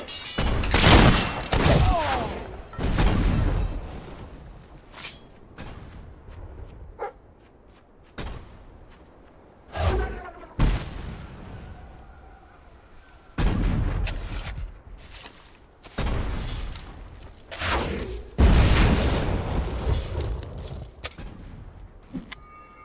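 A battle in Fable 3 erupts with loud volleys of gunfire and explosive blasts that come in irregular bursts, with quieter rumbling stretches in between.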